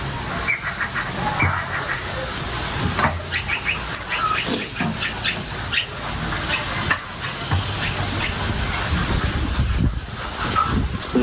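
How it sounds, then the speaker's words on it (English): Gusty wind buffeting outdoors on a cool day, a loud rushing hiss with repeated surges and bumps against the microphone, birds faintly chirping in between. "But it is a bit windy."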